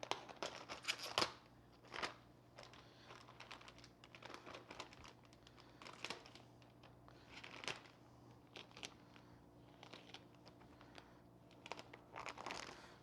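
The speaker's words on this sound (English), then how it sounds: "Since I'll be using a paring knife to open this plastic" A paring knife slices and tears the plastic wrap off a 40 lb block of cheddar: quiet, close crinkling, scratching and snipping bursts that come in irregular clusters with short pauses between them.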